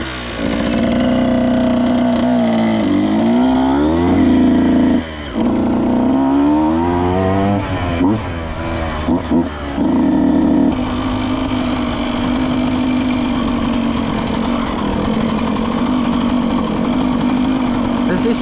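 Husqvarna TE 125 motorcycle engine starting and revving, a steady single-cylinder idle with throttle blips rising and falling in pitch, loud and close, then settling into a constant rough drone.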